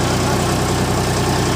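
Swaraj 963 tractor engine running a clay-mixing machine at a brick kiln, a loud, steady idling drone with a rhythmic low-frequency throb, close and continuous with no speech.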